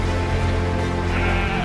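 Sheep bleating, a loud, sustained wavering bleat close by, lasting the whole moment with no speech.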